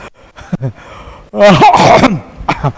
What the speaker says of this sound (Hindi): अच्छा खांस रहा था क्या?